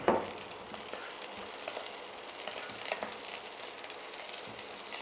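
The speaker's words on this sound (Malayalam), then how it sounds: "സവാള ഇട്ടൊന്ന് വഴട്ടാതിനെ." Two chopped onions sauté in a hot pan with a continuous bright sizzle and occasional stirring scrapes, close and alone.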